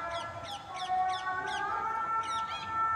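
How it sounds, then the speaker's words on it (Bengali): In a botanical garden, a bird repeats a bright, quick chirping call about every half second, with a soft whistling chorus of other birds and a low outdoor murmur underneath. "প্রচুর পাখি ডাকছে"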